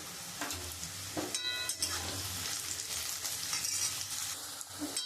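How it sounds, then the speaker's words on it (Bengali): Vegetables for fried rice fry in a pan with a continuous soft sizzle, broken by scraping stirs and occasional utensil clicks, fairly quiet and close. "আমি এটা খুব ভালো করে ভেজে নিয়েছি সবজিগুলো"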